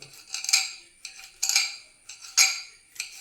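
A knife chops mulberry leaves on a cutting board in short bursts of crisp, close taps, about four clusters with brief pauses between them.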